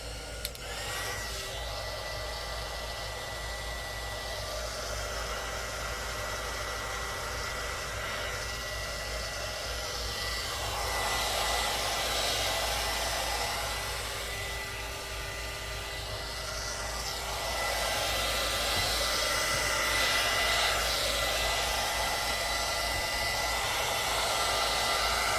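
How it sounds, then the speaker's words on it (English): Continuous loud whooshing blast of a heat tool blowing hot air to clear glue strings while making shabby chic vintage pocket envelopes, steady and close for the whole stretch with slight swells. "let me use my heat tool again to get rid of some glue strings"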